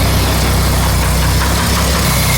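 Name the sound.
1947 International KB-1 truck engine running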